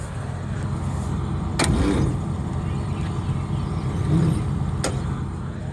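Cockshutt 555 tractor engine idling after a cold November start on a boosted battery, a steady mid-low running rumble throughout with two sharp clanks and a slight swell in engine noise.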